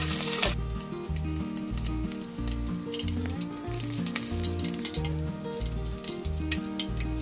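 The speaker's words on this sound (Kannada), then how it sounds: "ಈಗ ಮೊಟ್ಟೆ ಫ್ರೈ ಆಗಿದೆ." Egg frying in hot oil in a pressure cooker pan, a continuous bright sizzle under rhythmic background music with a sharp clatter at the start.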